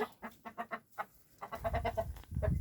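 Backyard chickens cluck in quick, close runs of short calls, a burst of four or five at the start and another denser run after a brief pause, with some low rustling at the end.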